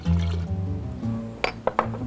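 Vinegar is poured into a jar of olives and curry powder, a close gurgling fill whose pitch climbs as the jar fills, followed by a few light glass clinks.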